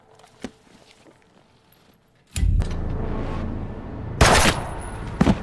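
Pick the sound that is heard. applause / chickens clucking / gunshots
gunshots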